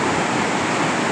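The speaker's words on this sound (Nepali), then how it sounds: "हेर्नुहोस् हेभी बढेको छ खोला" A swollen, fast-risen river rushes near Mukti bridge, a constant broadband roar of churning water, loud and close, with no voices over its brief span.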